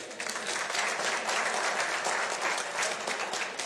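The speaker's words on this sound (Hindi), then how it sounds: "ताली बजा दो जरा उसके लिए" A crowd of party workers at a local election meeting in a Delhi ward claps together in a continuous, even burst of applause lasting a few seconds, fairly close and without talk over it.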